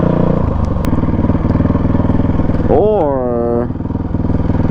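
Honda CRF450X dirt bike running during wheelie practice: a loud, pulsing single-cylinder engine throb holds steady, with a brief rising rev burst near the end while someone talks over it.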